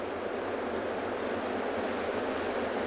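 Rapids on a Maasai Mara river churn with a constant, loud, dense rushing roar of turbulent water, unbroken and with no voices over it.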